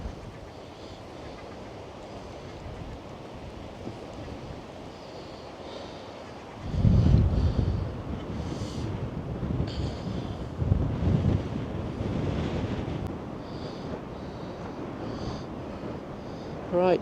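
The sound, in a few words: wind on the beach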